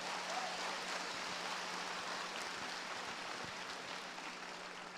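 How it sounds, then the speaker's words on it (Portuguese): Faint, distant applause from a church audience: a steady, soft wash of many hands clapping that lasts evenly throughout with no voices over it. "Você pode aplaudir Jesus mesmo,"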